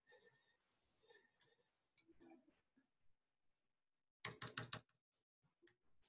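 Keys clicking on a computer keyboard while drawing in chemistry software: a few faint, scattered taps, then a quick close burst of rapid keystrokes, followed by near silence.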